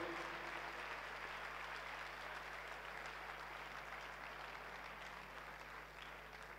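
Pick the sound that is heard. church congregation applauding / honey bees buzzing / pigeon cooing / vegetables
church congregation applauding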